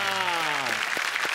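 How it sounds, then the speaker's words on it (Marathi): A studio audience on a Marathi TV comedy show applauds the Raghuveer family of magicians. A voice is heard briefly at the start, then dense clapping fills the rest. "जादूगार विजय रघुवीर यांच्यासाठी जोरदार टाळ्या."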